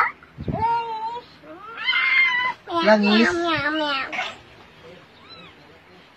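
A cat's meow comes through clearly amid a child's and adults' excited voices talking close by.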